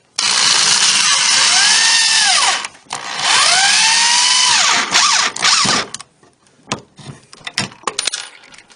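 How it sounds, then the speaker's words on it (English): A power drill whirs loudly in two long bursts, drilling pilot holes in wooden cabinet boards, its pitch sagging as it bites into wood, followed by scattered clicks and knocks. "The next step is to drill the pilot holes for attaching the boards to the front of the cabinet."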